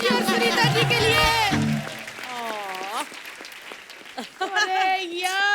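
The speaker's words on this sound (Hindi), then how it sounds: "एक बार जोरदार तालियां गोविंदा जी और सुनीता जी के लिए।" Studio audience applause on The Kapil Sharma Show, a steady wash of clapping running through the clip while voices and music with sustained tones carry over it.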